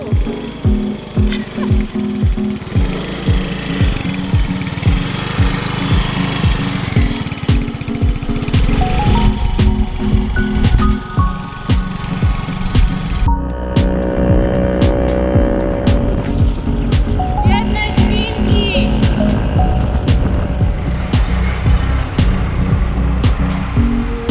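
A Yamaha scooter engine runs steadily while riding on a road in Bohol, Philippines, with loud continuous engine drone and wind rumble throughout, plus rattles and bumps.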